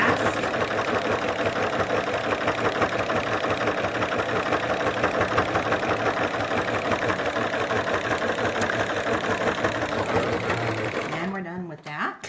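A sewing machine stitches fast and continuously while joining quilt-as-you-go strips, its rapid rattling needle rhythm loud and close, slowing and stopping right at the end.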